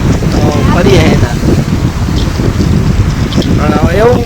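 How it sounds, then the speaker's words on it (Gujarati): A cool breeze blows at a beach and buffets the microphone with steady, loud rushing wind throughout. Faint voices drift in and out underneath. "એવું મસ્ત વાતાવરણ છે અને ઠંડો ઠંડો પવન આવે છે"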